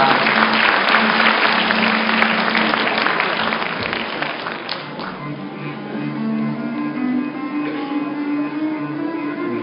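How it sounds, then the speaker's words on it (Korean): Graduation ceremony crowd claps for an award winner, a broad wash of many hands that is loud at first, then eases into a softer, sustained patter as the hall settles. "큰 박수로 축하해 주시기 바랍니다."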